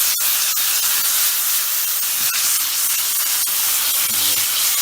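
Fish for tacos sizzling in a hot, steaming pan, a loud close broadband hiss throughout with a few sharp crackles and pops, no voices.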